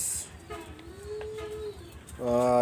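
Teddy pigeons, a pair of pet birds, give a soft drawn-out coo up close, followed by a brighter burst of calls at the end, over quiet background murmur.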